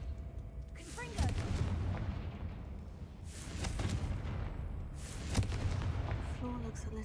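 A Confringo blasting spell explodes in a Harry Potter video game, giving three heavy booming bursts at regular intervals, each fading into a rushing, rumbling tail over a busy background.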